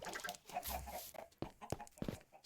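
Chickens in the Minecraft video game cluck in short, close bursts, several quick calls then sharper clucks toward the end, with no one talking.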